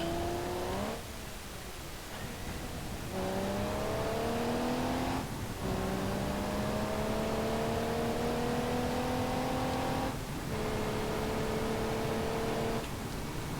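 A car engine in BeamNG.drive revving up in several long, rising pulls separated by brief drops, loud and close with no talking.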